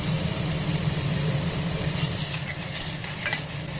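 Onions frying in a pan for a chapati and poori gravy make a steady, close sizzle with faint clinks from stirring scattered through. No one speaks.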